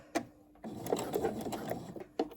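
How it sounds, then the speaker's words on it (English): Sewing machine backstitching along a fabric edge of a lined drawstring bag, running as a steady close whir with short stitch bursts at the start and end. "So I am going to backstitch at the beginning"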